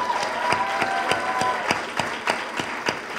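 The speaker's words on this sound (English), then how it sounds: "Ladies and gentlemen, please make a load of noise for James Findlay from St. Edward's School." Audience at a FameLab Academy Final science-talk competition applauding to welcome a speaker on stage, a steady burst of clapping from a crowd in a hall, moderately loud with no talking.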